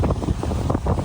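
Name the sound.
strong wind blowing on the microphone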